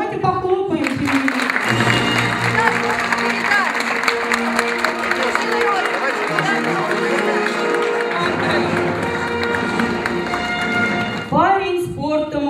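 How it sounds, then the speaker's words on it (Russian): A hall full of people at a 2015 school graduation claps steadily for about ten seconds, a dense, even patter of applause with voices mixed in, then fading as it ends. "Но давайте похлопаем себе."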